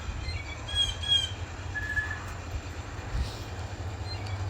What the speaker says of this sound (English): eastbound train from Cincinnati to Parkersburg pulling in to Chillicothe